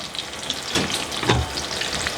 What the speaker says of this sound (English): We're gonna turn on the couscous one last time, make sure it's up to a full boil.